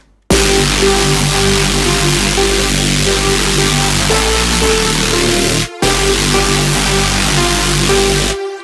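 A Reese bass patch built in Vital plays together with an Omnisphere lead for a drum and bass track, forming a dense, loud sustained synth layer. A brief dropout near the end breaks it before it resumes, with no talking.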